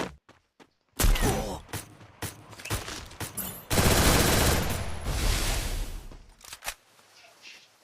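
Gunfire from a shooting video game: a few sharp isolated shots, then rapid bursts of automatic fire building into a dense, sustained volley before trailing off into scattered clicks.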